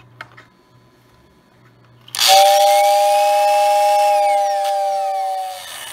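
A loud, sustained steam whistle from a Lionel 6466WX whistling coal tender on a model train blows after a couple of seconds of near silence, holding steady before fading slightly at the end.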